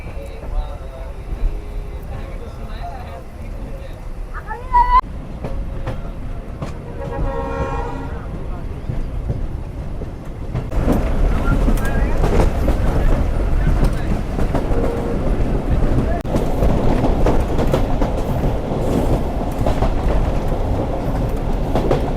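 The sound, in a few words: local commuter train departing Amnura Junction railway station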